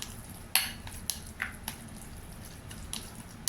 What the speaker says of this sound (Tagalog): And then we just need to mix well.